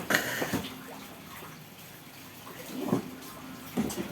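Floodwater inside a house's first floor splashes and gurgles steadily, with a few brief louder sloshes and faint voices in the background.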